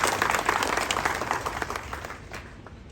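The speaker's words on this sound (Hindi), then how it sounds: "और जोरदार तालियां इनके लिए।" An audience claps at a retirement function, a dense ripple of applause that is loudest at the start and slowly thins and fades toward the end.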